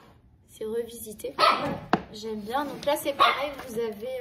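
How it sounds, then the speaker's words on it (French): A dog barks indoors in short bursts of several sharp barks while someone talks over it nearby. "je suis désolée pour le chien qui aboie."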